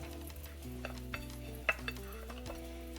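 Shaped dough pockets sizzle steadily in a little oil in a pan, with a couple of sharp clinks of a utensil over a constant tonal background.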